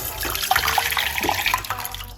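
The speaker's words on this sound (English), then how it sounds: "we are going to put 1 cup of hot water, large cup" Hot water pours steadily into a large cup for a clove, lemon and ginger tea, a close continuous splashing trickle with small bubbly gurgles throughout.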